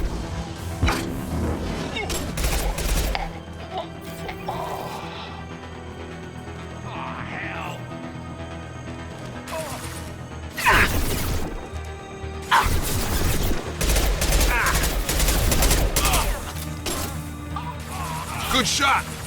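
Gunfire in a Mass Effect 2 firefight during Zaeed Massani's loyalty mission, with loud crashing impacts and thuds bursting out around 10 and 12–18 seconds amid continuous combat noise, with game voices talking over it.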